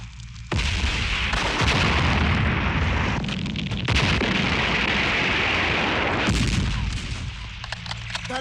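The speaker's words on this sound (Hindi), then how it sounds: "उन्हें कवरिंग फायर दो" Covering gunfire in a war film battle scene against Pakistani tanks, a dense, loud roar of continuous shooting and blasts that swells in several bursts, with no talk over it.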